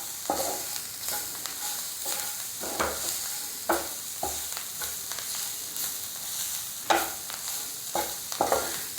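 Onion masala frying and being stirred in a pan, with a steady sizzle broken by repeated scraping strokes of a spoon at an uneven rhythm, close and moderately loud, with no talking.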